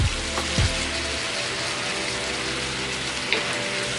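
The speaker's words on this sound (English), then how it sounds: "We're just gonna go ahead and stick this in and just stir as we go" Drained cabbage fries in a pan with a steady, close sizzle, joined by a few scraping knocks early on as it is stirred and a light clink later.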